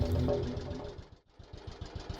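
A cartoon Soviet tank's engine runs with a steady mechanical rumble and rapid knocking pulses, briefly dropping out mid-way before resuming, loud and close.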